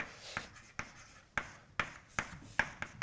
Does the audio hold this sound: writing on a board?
yes